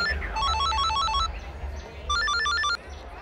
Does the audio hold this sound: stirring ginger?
no